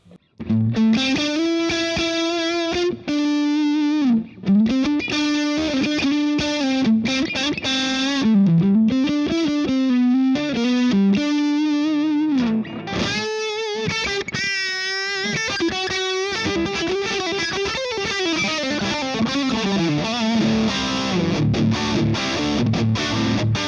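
Distorted electric guitar plays a sustained, bending lead line through the gain channel of a Laney GH50R 50-watt combo amp, with a wash of digital reverb and short pauses between phrases.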